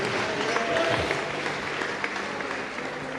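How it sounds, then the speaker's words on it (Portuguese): Church congregation applauding after a call to praise, a steady wash of clapping with some crowd noise and voices mixed in, fairly distant and continuous throughout. "aplauda o Rei Jesus e tome o seu assento."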